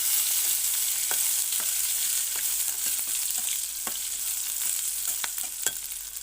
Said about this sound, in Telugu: ఆ చికెన్ అయితే ఇప్పుడు కర్రీలోకి యాడ్ చేస్తాం.